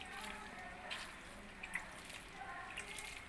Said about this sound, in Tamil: இப்போ மேலே நம்ம தண்ணி தெளித்து விட்டுக்கலாம்.